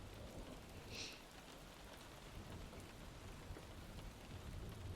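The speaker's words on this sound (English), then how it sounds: "rain sounds is always really calming for me" Steady rain patters on a surface during a late-night rainstorm, a soft even hiss with a low rumble underneath, fairly faint and with no talking.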